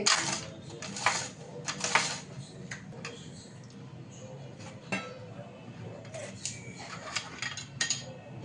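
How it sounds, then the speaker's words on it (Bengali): A kitchen knife chops green chilies on a board at home, giving quick scattered taps and clicks, some sharper and louder, with a person talking over them. "এই দেখো আমি ছুরি দিয়ে লঙ্কা কাটছি।"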